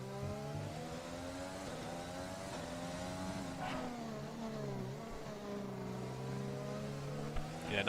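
Formula 1 cars race in the F1 2020 video game on a night-time USA circuit, with high, whining engine notes rising and falling through gear changes, fairly faint and continuous, with no voices over them.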